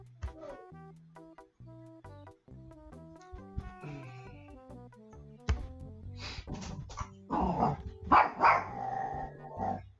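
A guard dog in the adventure game The Secret of Monkey Island 2: LeChuck's Revenge barks over a plinking game music loop, a cluster of sharp repeated barks in the second half, moderately loud.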